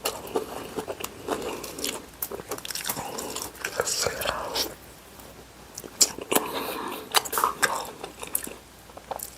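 Stewed duck wings braised with five-spice powder and curry spices being gnawed and chewed down to the bone, with close, wet, crunchy bites and slurps repeating unevenly throughout, loudest in bursts.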